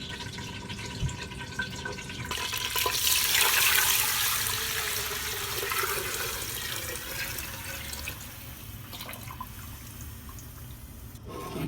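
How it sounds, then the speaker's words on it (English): Water runs steadily from a tap into a cooking pot, swelling louder then settling into a continuous gushing fill, close by with no talking. "Just fill it up with water."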